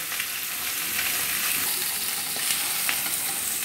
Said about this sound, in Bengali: এপিট এপিট করে মাছগুলো ভালোভাবে ভেজে নিতে হবে